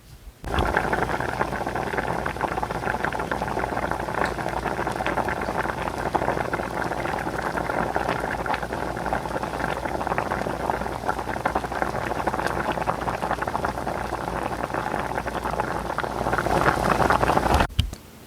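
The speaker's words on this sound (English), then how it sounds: "the bubbling of boiling water," Steady, dense bubbling of boiling water with a continuous rolling hiss, close and even throughout with no voices.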